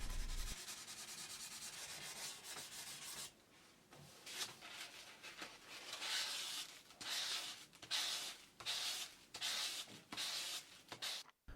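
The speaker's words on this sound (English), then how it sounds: "we gonna use these different spongy shapes blocks to start sanding the body" Sponge sanding blocks rub across a black limba Stratocaster-style guitar body, a soft abrasive hiss that runs steadily at first, then breaks into quiet, rhythmic back-and-forth strokes close by.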